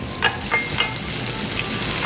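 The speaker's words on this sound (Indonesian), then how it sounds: "Ini kita gorengnya sampai bener-bener kering supaya aromanya lebih enak lagi dan nggak bau mentah dari cabenya" Red and bird's eye chillies fry in hot oil for sambal, giving a loud continuous sizzle with a few sharper crackling bursts near the start and no talking.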